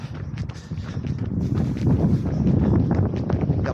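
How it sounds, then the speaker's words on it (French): Gusty wind roars steadily against an outdoor microphone during a warm-up run in Seville, with broad low rumble that swells and stays loud throughout, no voices present. "Il y a pas mal de vent qui s'est levé"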